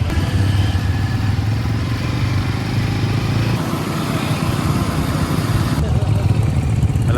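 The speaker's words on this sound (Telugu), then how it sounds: "మన వాళ్ళు అయితే బైక్లు అందరూ స్టార్ట్ చేసి రెడీ ఉన్నారు" Several motorcycles, started and ready for a group ride to the Ananthagiri hill station, idle and rumble loudly and continuously up close, with a steady engine drone throughout.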